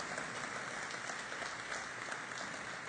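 Sustained applause from an audience at a Venezuela-China business forum, a dense steady wash of many hands clapping at full level throughout, with no voices over it.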